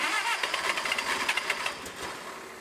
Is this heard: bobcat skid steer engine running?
yes